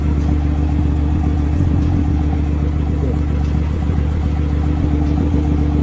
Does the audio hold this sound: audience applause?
no